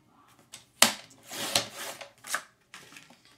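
Cardstock being cut for a handmade mini album, with close scraping, slicing strokes and sharp snaps of a paper trimmer blade in a few quick passes.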